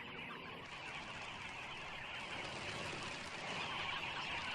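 A dense, continuous clamor of many birds calling at once in the Kalahari, a steady noisy chorus of a large flock without pauses.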